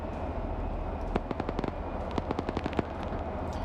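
In a military video game training op, a rapid rattling string of sharp cracks and pops bursts out over a low rumble, like crackling explosions or gunfire, dense in the middle then thinning out, with no talk.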